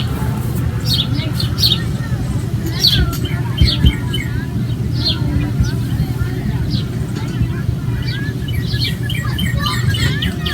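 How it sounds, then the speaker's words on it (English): Birds chirp and tweet in scattered bursts over a steady outdoor murmur at Prophetstown State Park, Indiana, with faint distant voices of children playing mixed into the background. "we just wanted to let you hear the children playing and the birds singing"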